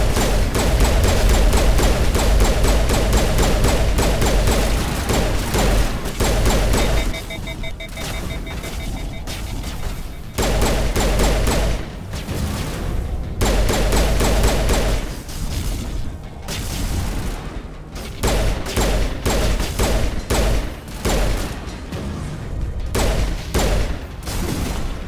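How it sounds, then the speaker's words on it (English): Gunfire in the video game Mass Effect, with a pistol among the weapons: loud bursts and rapid shots over game music and rumbling booms, changing in intensity across the whole stretch. "See, the pistol doing my job."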